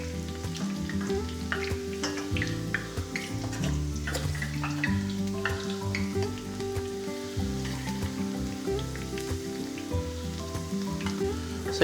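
Ingredients frying in a pan and being stirred, a continuous close sizzle with scraping movements, heard over a steady tonal background and no speech.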